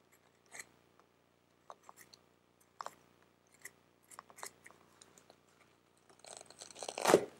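A knife gently cutting into an old leather wallet, giving faint, scattered crisp snips and crunches in a quiet room, rising to a louder scraping burst at the end.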